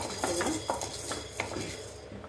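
Urad dal dry roasting in a pan, stirred with a metal spoon that scrapes and clinks repeatedly against the pan in a quick, close, uneven rhythm.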